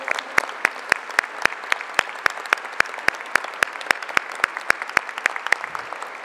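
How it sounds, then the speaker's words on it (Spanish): An audience at a national housing programme presentation claps in a steady rhythmic beat, sharp evenly spaced claps repeating for several seconds, close and loud with no voices. "pido un aplauso a todos nosotros"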